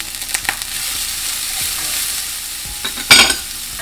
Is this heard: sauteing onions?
yes